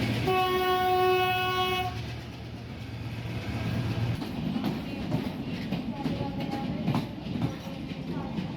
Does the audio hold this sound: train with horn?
yes